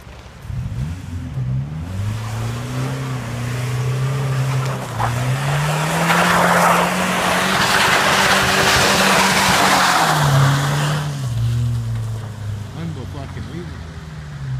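A stuck Toyota 4Runner's engine revs hard while its tires spin and squeal on the ground, the roar swelling and easing in long surges, with people talking nearby.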